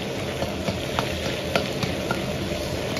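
Minced meat stir-frying in oil in a wok, a steady close sizzle with soft scraping clicks from the spatula at irregular moments, no voices.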